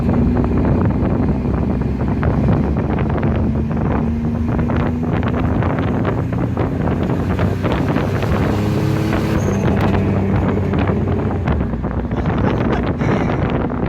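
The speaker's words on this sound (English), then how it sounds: "Let's do that again in second gear because that was just glorious" Dodge Dakota truck with an aftermarket eBay SQV blow off valve accelerating hard in second gear, a loud, steady engine roar that climbs continuously through the revs, heavy rumble with buffeting wind noise, no voices.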